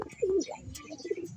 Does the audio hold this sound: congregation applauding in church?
no